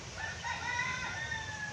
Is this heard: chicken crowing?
yes